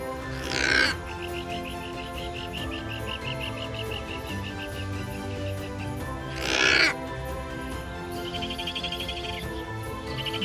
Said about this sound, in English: Guillemot.